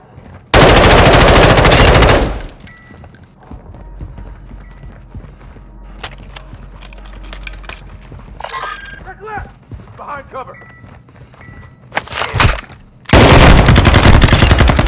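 Automatic gunfire in the video game Call of Duty: Modern Warfare II DMZ, with loud sustained bursts opening and closing the clip around quieter battlefield sounds and radio-style voice chatter in between.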